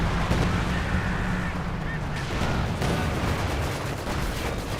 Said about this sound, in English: I think it's the Panzer artillery.